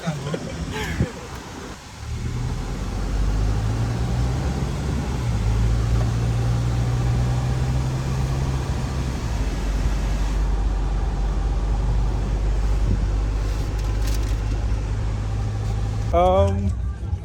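An Isuzu MU-X on a test drive in Suriname, a steady low engine drone and road noise inside the cabin, with a brief engine note rising at the start and voices speaking over it.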